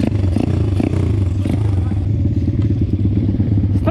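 Pitgang 140xd pit bike motorcycle engine revving loudly and continuously up close during hard riding, with clattering and thumps from the rough track, while a voice talks over it.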